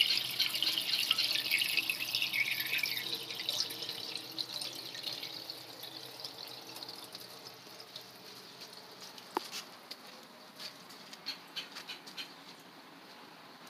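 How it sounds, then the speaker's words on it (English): A garden hose runs water into an outdoor aquarium, producing a steady hissing rush with scattered drips and splashes that softens over time. "So now it is time to add the water. All right, got the hose inside right here."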